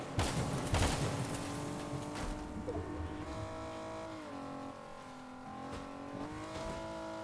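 A car in the Fortnite video game bangs repeatedly while driving, with sharp popping bursts over a steady engine drone that rises and dips in pitch.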